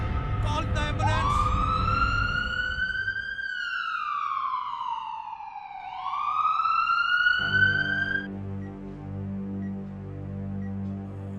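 An ambulance siren wails in rising and falling sweeps and then fades out, leaving a steady low hum, with faint voices in the background.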